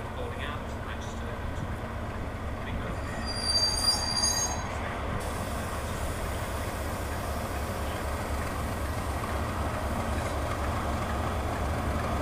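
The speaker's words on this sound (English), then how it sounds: "Standing at platform 2 is the PAL 30 Transpennine Express service to Manchester" TransPennine Express passenger train standing at a station platform, a steady low rumble of idling engines with a brief squeal of wheels or brakes early on, and a faint voice in the background.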